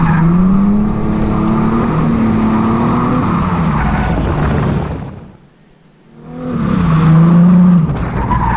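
A Nissan Z31 drifts on the track at Mission Raceway Park, its engine droning loudly with rising and falling revs and tire noise, then cutting out almost to silence for about a second as it spins before roaring back up.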